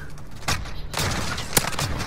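Gunfire in a Call of Duty match (Black Ops Cold War or Modern Warfare), a few loud close bursts of shots with short gaps between them and no voices over them.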